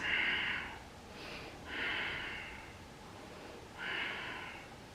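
Slow yogic breaths in a held shoulderstand, three long airy exhalations spaced a couple of seconds apart, close and quiet against a soft background hiss.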